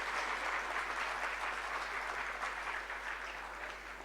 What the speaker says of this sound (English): let's just give a round of applause to all the performers tonight